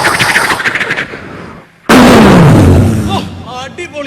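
A comedy show's fireworks finale sets off firecrackers: a rumbling stretch of crackling, then a brief hush before a sudden loud blast that booms and fades, with crackles and a voice near the end.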